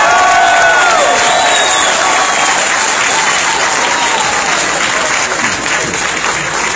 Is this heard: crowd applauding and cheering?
yes